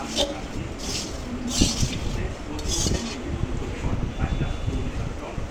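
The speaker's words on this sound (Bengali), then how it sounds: "একটু নাড়াচাড়া করে এখন আমি নামিয়ে নেব" Spiced puffed rice is stirred in a pan with a metal utensil, giving repeated light scraping clinks and soft rustling under someone speaking.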